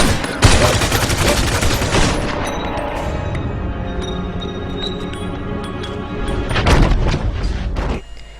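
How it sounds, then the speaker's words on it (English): Tommy gun bursts in a Mafia 2 cutscene: loud, dense rapid fire in long sustained volleys with heavy booms, a lull, then another burst before it cuts off. "with the Tommy guns and the shooting"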